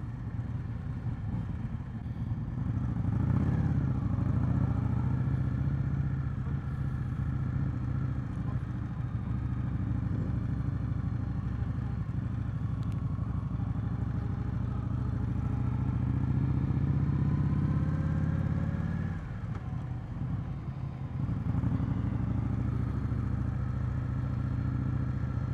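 2020 Indian Scout Bobber motorcycle on the move, a steady low engine rumble with wind noise that swells and eases as the throttle changes, with a brief dip near the end.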